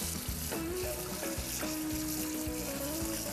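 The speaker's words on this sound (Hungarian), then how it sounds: "és jéghideg víz alatt átmosom" Cooked food rinsed in a strainer under ice-cold running tap water in a kitchen, a continuous loud rushing splash with hissing, sizzle-like texture and faint clatter throughout, no talking.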